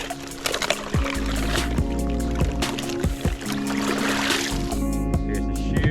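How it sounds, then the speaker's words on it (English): A kayak spray skirt swished through icy water beside an island camp, close sloshing and pouring splashes in several uneven strokes, with brief scrapes and knocks between them. "We're gonna swish it in the water"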